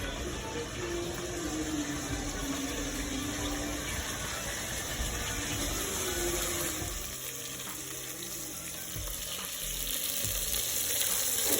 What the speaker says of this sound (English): The chicken is sizzling away, it's getting really nice and brown